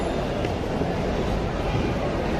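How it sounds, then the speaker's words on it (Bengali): Busy Chittagong railway station on a Saturday, a dense, constant roar of crowd and rail noise filling the space, loud and close with no clear breaks. "আজকে শনিবার, চিটাগাং রেল স্টেশন প্রচুর ভিড়,"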